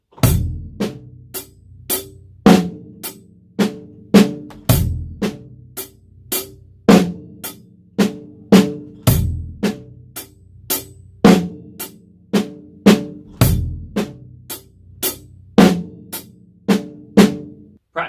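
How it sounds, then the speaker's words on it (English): Drum kit playing a paradiddle groove, with a bass drum hit landing under the first right-hand note of each pattern; steady, evenly spaced strokes repeat alone for about eighteen seconds at a clear, close level. "Now I want you to put a bass drum under that very first right hand note of the paradiddle."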